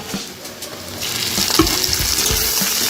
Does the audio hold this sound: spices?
yes